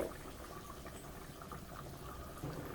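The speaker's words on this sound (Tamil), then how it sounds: "நல்லா கொதிக்குது" Steady low bubbling and simmering of a pot of Ambur biryani at a boil, a continuous soft churning hiss with no voices.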